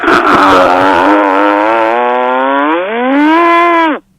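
A voice imitates a cow mooing: one long, loud, drawn-out bellow lasting about four seconds, dipping slightly near the end and then rising before it cuts off abruptly.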